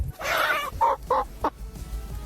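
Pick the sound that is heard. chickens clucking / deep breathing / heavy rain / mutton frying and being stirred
chickens clucking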